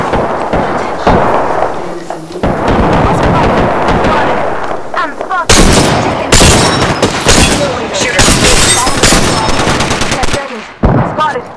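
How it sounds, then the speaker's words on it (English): Heavy gunfire in Apex Legends, dense bursts of automatic and single shots crackling loud and close across the whole stretch, with a short lull near the start, and voices talking in the mix. "Listen up, I'm getting shot at."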